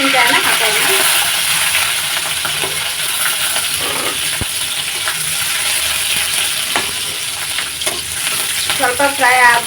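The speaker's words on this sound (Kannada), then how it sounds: "ನೋಡಿ ಇದು ಚಟಾಪಟ ಅಂತ ಹುರಿತಾ ಇದೆ" Tempering seasoning crackles and sizzles loudly in a hot pan as curry leaves go in, a steady close frying hiss with scattered pops while cooking leftover chapati upma.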